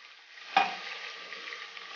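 Sliced onions hit hot oil for koyla chicken with a sharp burst of sizzle, then settle into a steady, close frying hiss that carries on alone.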